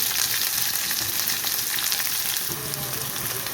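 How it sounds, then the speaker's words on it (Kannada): Onion and green chilli frying in a pan, a steady dense sizzle that stays loud and close without a break, with no voices over it. "ಹಸಿಮೆಣಸಿನಕಾಯಿ ಜೊತೆನೇ ಈರುಳ್ಳಿನೂ ಹಾಕಿದ್ದೀವಿ ಇದು ಸ್ವಲ್ಪ ಕೆಂಪು ಫ್ರೈ ಆಗಬೇಕು"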